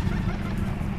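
A bird creature calling in the video game Path of Titans, a short, loud gobbling squawk that fills the whole brief moment with no talk over it.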